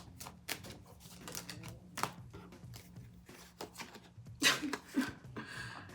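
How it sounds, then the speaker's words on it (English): Large tarot cards being shuffled by hand, a run of close, soft, uneven flicks and riffles that build to a denser burst near the end, with no talk. "These cards are bigger, so sometimes they're harder for me to shuffle."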